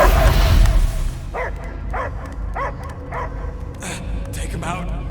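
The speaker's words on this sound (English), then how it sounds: "I hear only barking" A dog barks repeatedly in the Guardians of the Galaxy video game, a regular series of sharp, fairly close barks after a loud opening rumble, with characters speaking alongside.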